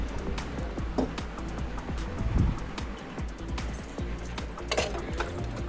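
Dishes, pots and pans are washed in a home kitchen, with repeated clinks and clatters of metal utensils against steady running water, heard up close without speech.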